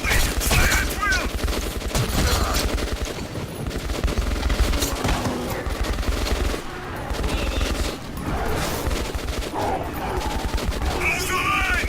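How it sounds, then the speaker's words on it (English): Constant soldier gunfire and chaotic firefight noise in the Metro 2033 Redux video game, dense overlapping shots and bursts that run without a break, with voices shouting orders underneath. "Shield me. Fire at will."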